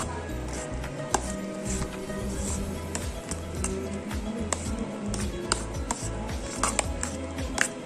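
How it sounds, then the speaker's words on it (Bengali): A spoon stirs a homemade hand wash mixture in a container, making repeated scraping, tapping knocks against the sides in an uneven rhythm, close and moderately loud, with faint background noise. "এভাবে নেড়েই যেতে হবে চামচ দিয়ে।"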